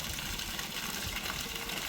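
Foamy water gushes steadily from a borewell driven by a new 1.5 horsepower motor, making a dense, even rushing hiss with no break.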